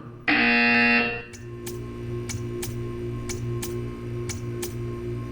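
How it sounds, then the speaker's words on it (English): A loud harsh buzzer in Portal 2 blares once for about a second, then gives way to regular ticking over a low hum. "You will hear a buzzer."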